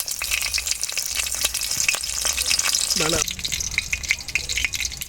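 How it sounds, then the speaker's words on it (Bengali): Bay leaves and cut green chillies dropped into hot oil in a wok crackle and sizzle loudly and continuously, with a short voice or squeak breaking in partway through. "বন্ধুরা এইবারে কড়ার তেল গরম হয়ে গেছে আমি দিয়ে দেবো তেজপাতা কাঁচা লঙ্কা কাটা"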